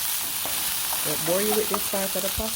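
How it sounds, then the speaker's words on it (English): Butter chicken fries and sizzles in a pan while being stirred, a steady close hiss that continues under someone speaking. "but I'll keep still frying this and then I'll show you the next step"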